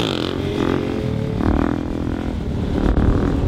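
Stunt motorcycle engine roaring steadily and loud during a wheelie with fellow riders, a sustained close drone with slight pitch shifts throughout.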